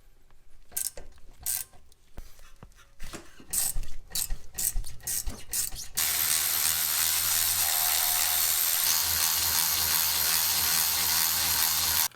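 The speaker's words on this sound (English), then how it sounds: "And then it'll be a 7mm Allen to loosen it." A 7mm Allen socket on a ratchet loosens a brake caliper pin on a VW MK5 GTI, with bursts of quick close clicking, then a loud steady broadband rush for the last half.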